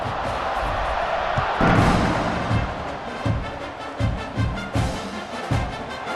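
A home stadium crowd cheers in EA Sports College Football 26, a loud, continuous roar punctuated by a series of heavy, irregular thumps.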